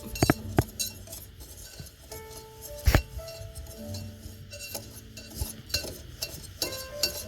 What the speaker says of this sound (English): We'll just whisk that up.